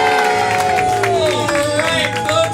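A comedy-show audience cheers and applauds steadily, loud crowd noise with whoops and a musical fanfare-like tone running through it for the whole stretch.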